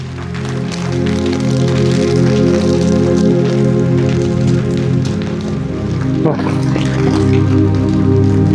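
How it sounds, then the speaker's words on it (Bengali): Rain pours steadily during a trek up Parasnath hill in Jharkhand, a dense, continuous patter close to the microphone, with voices talking over it throughout. "জল বৃষ্টি হচ্ছে।"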